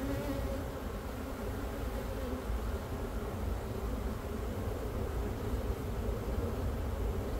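Honey bees buzz steadily throughout a beehive inspection, a dense, continuous hum that stays close and even from start to finish with no talking.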